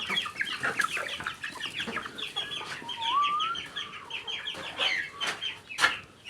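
Chickens cluck and chatter continuously close by, with a rooster-like call and bird chirps mixed in, no talking.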